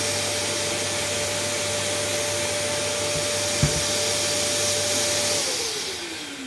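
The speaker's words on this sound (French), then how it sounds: "Et là, je redonne un petit coup d'aspirateur." A vacuum cleaner is used to clean a camera's front lens element: a steady, close, droning whine with a brief knock partway through, then the motor spins down and fades near the end.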